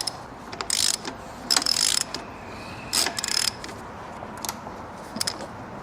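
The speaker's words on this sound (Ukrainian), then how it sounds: "Беремо на 14 головку і обертаємо розподільчий вал." A ratchet with a 14 mm socket turns the camshaft on the engine of a KOVI Lite 300 motorcycle during assembly, giving several short bursts of clicking with pauses between them, close and clear.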